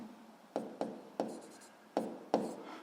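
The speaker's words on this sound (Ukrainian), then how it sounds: "Давайте я тут напишу." A teacher writes out a physics calculation during a lesson, making five or six short, distinct scratching strokes at an even pace, close and fairly quiet, with no one talking.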